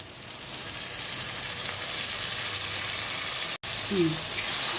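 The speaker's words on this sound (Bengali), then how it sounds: "এবার ভালো করে এই পেঁয়াজের সাথে ধনেপাতাটাকে কষতে হবে।" Coriander paste is stir-fried with fried onions for green coriander chicken curry, giving a steady close frying sizzle with light stirring scrapes, a brief drop-out near the end, and a short voice over it.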